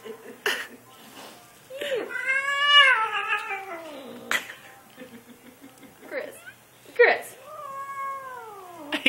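An angry cat caterwauls in a house, letting out several long, wavering yowls that rise and fall between short pauses, loud and close, with a person's voice briefly in the background.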